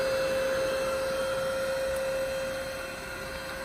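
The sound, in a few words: electric pump inflating an Advanced Elements inflatable kayak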